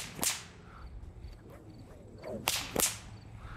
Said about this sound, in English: You should be able to get a second crack right there.